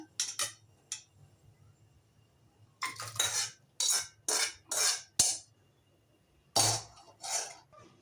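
Mutton is scooped into a pressure cooker with a metal spoon, giving a series of close, clattering scrapes and clinks against the pot in uneven bursts with short quiet gaps.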